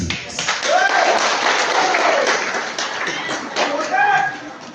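Applause for a 60th birthday jubilee in Qorakhtoy village, Uzbekistan: a dense, steady wash of clapping from a crowd, continuous and fairly loud throughout, with voices mixed in underneath.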